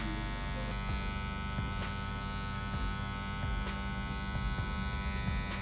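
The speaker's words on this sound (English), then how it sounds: "I'm probably gonna hit it again with the trimmer." An electric hair trimmer buzzes continuously and close by during a mid fade haircut, a steady electric drone with faint clicks and brief changes in tone as the blade moves through hair, with no talking.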